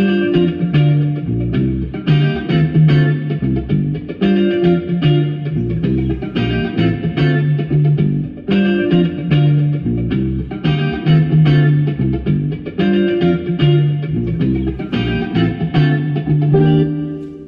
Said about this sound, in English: there's a nice reverb wash